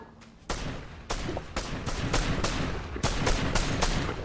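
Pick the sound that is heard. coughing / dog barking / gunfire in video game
gunfire in video game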